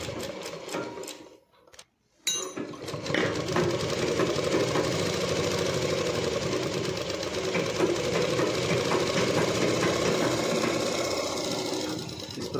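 Sewing machine stitching a Rajputi suit, running in a steady continuous whir after a brief pause and a few starting clicks, close and loud with no talk.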